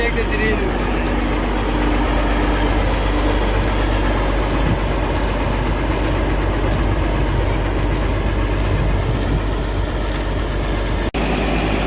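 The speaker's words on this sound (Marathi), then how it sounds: "दोन्ही मशीन आता बीडच्या रेल्वे स्टेशनवर येऊन उभा आहे" A railway track packing machine stands at Beed railway station with its engine idling, a loud, steady low rumble running throughout with a voice talking over it.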